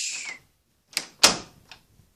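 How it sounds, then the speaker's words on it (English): In a video game, a short whirring hiss is followed by a couple of sharp knocks and a solid thud as a door shuts, with a faint click after. "So that closes the door."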